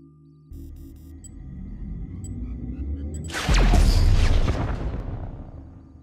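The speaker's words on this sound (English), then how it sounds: "After hitting him with the orbital cannon," An orbital cannon strike in GTA 5 Online: a thin electronic beeping targeting tone gives way to a sudden deep, loud blast that rumbles on and slowly fades, with no talking.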